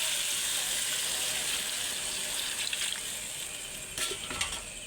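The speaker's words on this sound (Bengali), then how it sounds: "এবার পরিমাণ মতো জল দিয়ে দেব।" Water poured into a pan of simmering spiced katla fish curry base with potato and pointed gourd, a hissing sizzle and gushing splash that swells toward the end, close and steady, no voices.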